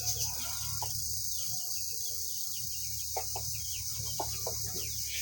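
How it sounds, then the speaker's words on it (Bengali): Chickens cluck in a village yard, a few short calls scattered over steady outdoor background noise, moderately near and fairly quiet. "দেখছেন এই যে মুরগি"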